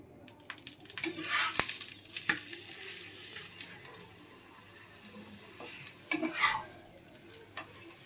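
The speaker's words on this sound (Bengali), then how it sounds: "এবারে একটু একটু করে তেল দিয়ে সাইড থেকে এটাকে ভেজে নেওয়া হচ্ছে" Crisp paratha made from discarded vegetable peels frying as oil is added around its edges: soft intermittent sizzling and crackle, with a few sharp clinks of a utensil and brief bursts of stirring.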